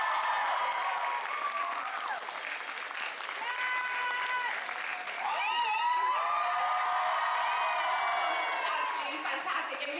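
A large crowd at a convention awards ceremony cheers and claps continuously, with high whoops and shouts rising over dense applause.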